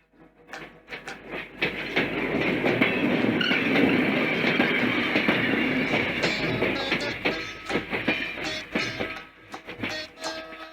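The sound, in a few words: train arriving at station, sound effect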